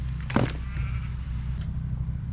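On a farm where a paddock is being set up, a sheep lets out one brief, wavering bleat over a constant low engine-like hum, with a fainter second call following.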